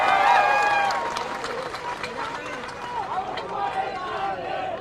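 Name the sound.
audience applause at a political rally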